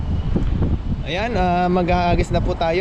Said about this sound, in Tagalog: Kung makikita nyo po yung mga hampas ng hangin sa tubig